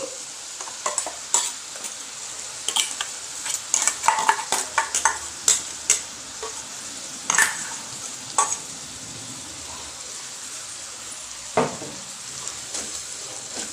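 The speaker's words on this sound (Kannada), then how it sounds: "ಮಸಾಲೆ ಕೂಡ ಎಣ್ಣೆಲಿ ಫ್ರೈ ಆಗಬೇಕು" Ground masala paste frying in oil for a greens gravy, a soft background sizzle broken by a string of sharp spatula scrapes and clinks against the pan, irregular and close.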